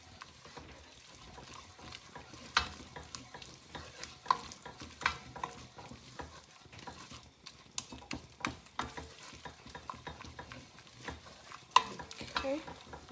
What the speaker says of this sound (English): So I'm going to add it to the oil to melt. Okay, melting the ogbono.